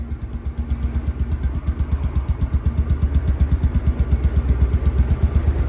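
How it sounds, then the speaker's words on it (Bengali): A Bajaj Pulsar double-disc motorcycle, a 2023 second-hand bike, idles close by with a steady, rapid thumping exhaust beat and a light mechanical clatter, holding an even level throughout with no talking. "মাত্র ইঞ্জিনটা রানিং অবস্থায় আছে"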